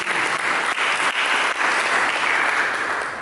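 Church congregation applauding during a sermon, a dense, sustained clapping from a large crowd that stays loud and steady throughout without pause.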